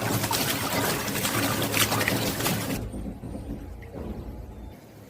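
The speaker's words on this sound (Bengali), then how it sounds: "লবণ দিয়ে ধুয়ে নিচ্ছি।" Water splashes and pours steadily over cut stinging catfish being rinsed with salt, a close, dense wash of sound that stops abruptly partway through and leaves faint trickling.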